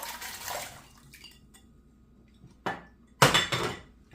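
Celery goes into a pot of water for chicken broth, giving a couple of sharp splashes and clunks after a quiet stretch with a soft rustle at the start.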